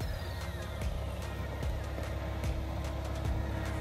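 Mahindra Thar in 4x4 mode climbing an off-road slope in Ladakh, a low steady engine drone with a rhythmic knocking pulse, fairly quiet and continuous throughout.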